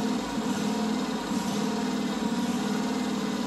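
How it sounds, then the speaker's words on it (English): Small engine idling steadily and smoothly with the choke about halfway, a continuous close mechanical drone with an even low throb and no speech. "Now notice how it's idling smooth with a choke about halfway."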